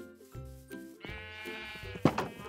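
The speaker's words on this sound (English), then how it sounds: "Little rogue sheep." Sheep bleats in Minecraft, several short wavering calls that overlap and rise in loudness, with a sharper cry near the end, close and clear with no talking.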